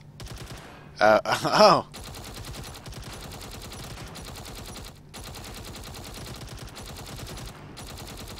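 Rapid automatic gunfire from a high-rate rifle in a multiplayer shooter game, a loud burst of about a second near the start, with players talking and exclaiming around it over continuous game sound.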